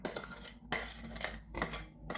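A utensil scrapes and clinks steadily around a bowl of baking mixture for mini malties in a few rhythmic strokes, close by with a low background hum.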